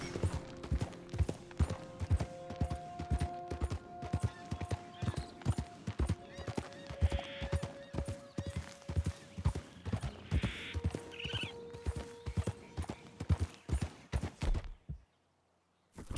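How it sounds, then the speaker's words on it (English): Steady clip-clop of horse hooves pulling a cart in Red Dead Redemption 2, a close, even walking rhythm lasting most of the stretch, with a horse snort and faint background music, ending abruptly in silence. "There's a fella on a horse and cart."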